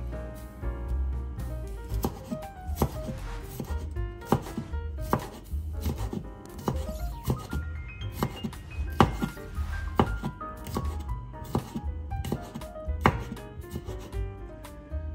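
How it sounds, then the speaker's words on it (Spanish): A knife finely minces a garlic clove on a board with quick, uneven chops that run steadily and close for about fifteen seconds, with no talking. "también vamos a picar muy menudito un diente de ajo."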